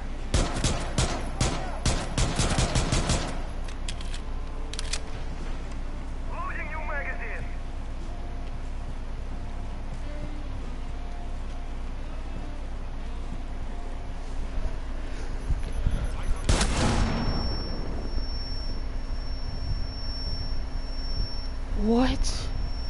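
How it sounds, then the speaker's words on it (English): Pistol shots in Rainbow Six Siege ring out as a rapid cluster of sharp cracks near the start, followed by a single later shot and scattered game sounds, with a player talking throughout. "I'm gonna take him out with the pistol."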